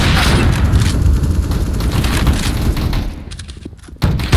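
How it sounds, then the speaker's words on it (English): Grenade blast in a video game, a loud booming explosion with rumbling debris that fills most of the stretch, fades briefly near the end, then gives way to a sharp new impact. "Throwing a grenade."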